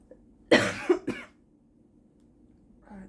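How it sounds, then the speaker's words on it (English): Two or three sharp coughs in quick succession, fairly close and loud, followed by quiet and a faint murmur at the end. "Coughing again."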